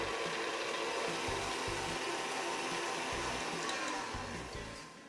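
An electric mixer whips chilled cream for a lime Christmas log cake, giving a steady loud whirring that holds throughout and fades slightly toward the end, with no talk.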